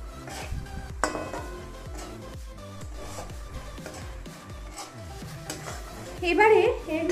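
A spoon stirs ground cashew and poppy-seed paste into chicken pulao gravy in a pot, giving repeated soft scraping strokes with faint sizzle, a few clinks against the pan and a louder burst near the end.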